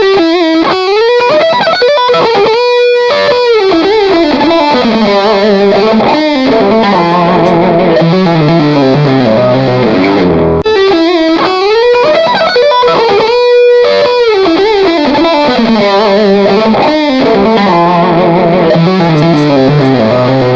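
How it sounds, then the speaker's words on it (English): An overdriven electric guitar plays a continuous melodic line through an amplifier, sounding close and roomy with distortion and a little echo. "that's a really nice amp in the room sound"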